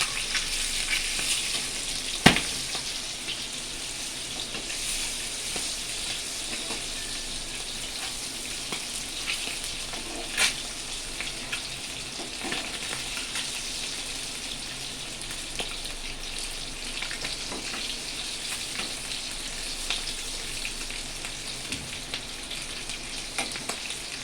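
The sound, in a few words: eggs frying lightly in a pan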